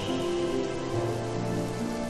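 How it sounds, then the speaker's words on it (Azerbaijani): Autumn rain falls steadily in a dense, even hiss of drops on a surface, close and loud throughout with no voices. "Payızda yağır belə yağışlar."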